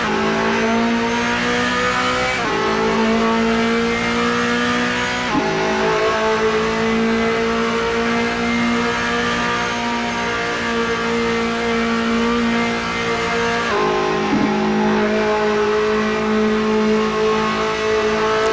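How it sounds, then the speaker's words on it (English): A race car engine in a sim racing game at the Spa circuit screams steadily at high revs and loud, dropping briefly at a few gear shifts before climbing again, with no talk over it. "sounds like Chris Moses set himself up with a long sixth gear"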